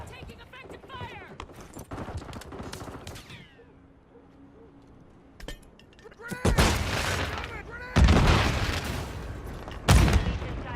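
Gunfire from Call of Duty MW3 multiplayer beta in Hardpoint mode: sharp, loud bursts of shots clustered in several volleys, with a quieter lull in the middle and in-game voice callouts mixed in.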